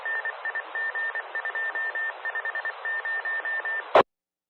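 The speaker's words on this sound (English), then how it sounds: "Interesting Morse code usage there." Radio Morse code sounds as a steady single-tone beep in irregular dots and dashes over a hissy channel, ending in a sharp burst of static.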